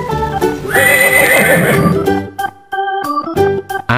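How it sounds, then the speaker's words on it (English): A horse gives a loud, close whinny that rises and trails off, followed by steady tonal sounds like a simple melody. "Horse."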